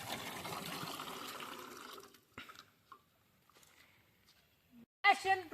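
Water pours and runs steadily at a village outdoor cooking spot, then cuts off, leaving faint scattered sounds and a brief louder clatter near the end.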